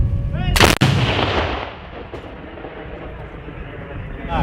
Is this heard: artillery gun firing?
yes